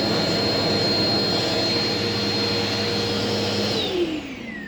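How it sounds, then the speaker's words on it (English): Another vacuum cleaner sucks dust off a Dirt Devil Dynamite Plus filter. It makes a loud, steady, close motor whine that holds evenly and then winds down near the end. "all you gotta simply do is take another vacuum like I'm doing. Just gently vacuum it off"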